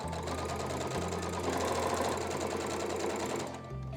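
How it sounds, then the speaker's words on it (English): Sewing machine stitching a twice-folded fabric hem on a top, running in a steady rapid mechanical whir for nearly four seconds before slowing at the end, close and clear. "I'm just gonna fold it once and then twice and sew it together."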